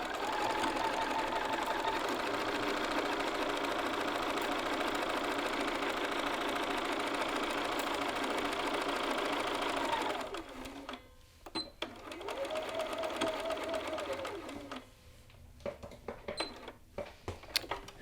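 A sewing machine stitches a blouse yoke seam in a long, steady, close mechanical whir for about ten seconds, then runs in shorter stop-start bursts with clicks and handling noises.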